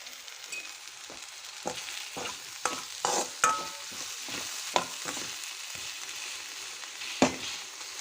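Tomatoes with turmeric stirred in a pan make a soft background sizzle, with a series of distinct scraping and tapping strokes of a spoon against the pan at an uneven pace.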